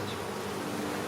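Honeybees at an open, active hive in an agitated state, producing a dense, continuous buzz that holds steady and close throughout, with no voices.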